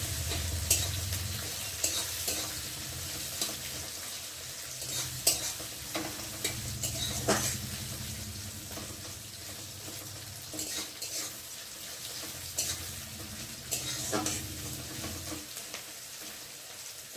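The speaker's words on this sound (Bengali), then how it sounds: "এখন আমি কুচিয়ে রাখা পেঁয়াজগুলোকে দিয়ে ফোড়নের সাথে ভেজে নেব" Chopped onions frying with whole-spice tempering in a pan, after okra, for a thin chicken curry: a steady close sizzle with repeated scraping and clinking of a spatula stirring against the pan, and no talk.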